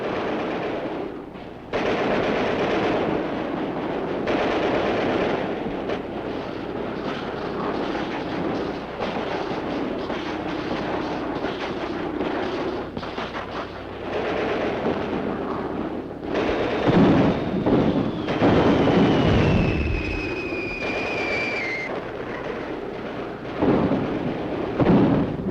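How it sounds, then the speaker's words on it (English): Heavy Soviet artillery fire during the 1941 winter assault against German forces, loud dense rumbling blasts and bursts running continuously with old newsreel hiss, a rising whistling tone near the end. "Under cover of Russia's heavy artillery"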